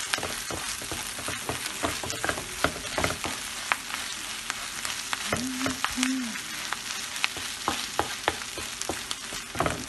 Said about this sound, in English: Allow me to cook at least, the flour to cook at least for a minute before adding the cabbage.